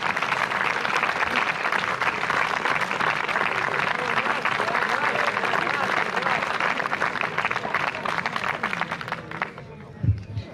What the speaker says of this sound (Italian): applauso a lui perché ha presentato